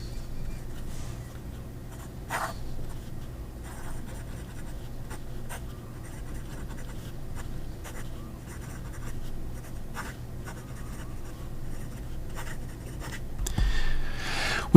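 A fountain pen fitted with a Vizier-branded medium replacement nib writes on paper, giving soft, continuous scratchy strokes with small taps and lifts throughout, close and fairly quiet.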